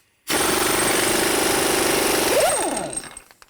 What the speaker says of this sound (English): Now I'll take the axle nut off, use a 36mm socket.